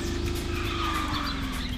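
An RC car drifts while its speed drops, with a continuous motor whine and tire skid noise held close and even through a short stretch, with no voices.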